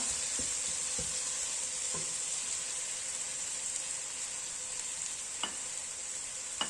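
Chili, turmeric, garam masala and ginger-garlic paste sizzle steadily in hot oil as a Kerala-style biryani masala is fried, a continuous close hiss with a few soft stirring clinks, no voices.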